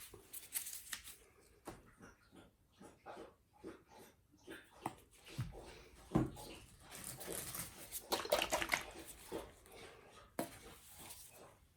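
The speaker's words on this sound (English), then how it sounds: "Oh, one of my puppy dog's coming in here." A pet puppy dog moves about a room indoors, with soft irregular breathing, snuffling, whimpers and paw patter in short bursts, fairly close and quiet.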